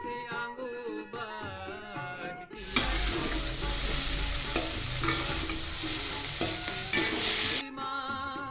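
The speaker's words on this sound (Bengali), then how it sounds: "ভালোভাবে নাড়িয়ে মিনিমাম আমি 3 মিনিট ভেজে নেব।" Broccoli fries in a wok while being stirred, a loud, steady sizzle lasting about five seconds, with background music before and after.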